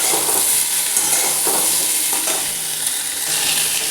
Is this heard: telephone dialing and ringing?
no